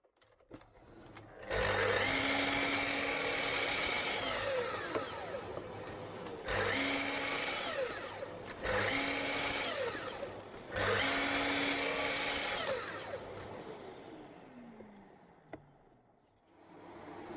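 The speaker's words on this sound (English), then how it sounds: "I've made a little taper jig for the bandsaw to cut the legs down to take the feet" A bandsaw cuts tapers on wooden side-table legs using a shop-made taper jig, the motor running in several long loud passes separated by short pauses, with a winding-down whine near the end.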